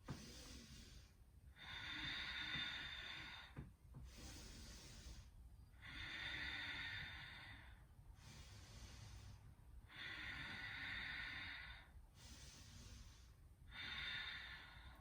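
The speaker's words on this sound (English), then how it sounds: "So we'll try that for 5 Ujjayi breaths." Slow Ujjayi yoga breathing during a morning yoga session: four long hissing breaths, each a few seconds with short quiet gaps between, soft and close, with no talking.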